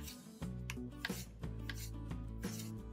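A knife cuts red and yellow tomatoes into wedges on a board, three or four distinct crisp chops spaced about a second apart over a steady low background hum, close and quiet, with no talk.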